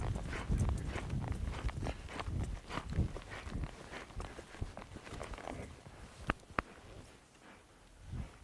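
Horse hooves thud in a steady loping rhythm on an arena surface during a reining workout, close and fairly clear, with a couple of sharp knocks near the end.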